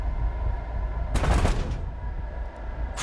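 A MiG-17's cannons firing in War Thunder, a single short rattling burst of about half a second that rises over a steady droning engine hum.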